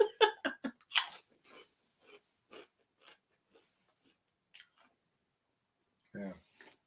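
Snack crunching up close: a quick burst of sharp bites and chews at the start, then scattered softer crunches with long gaps, and a brief voice near the end.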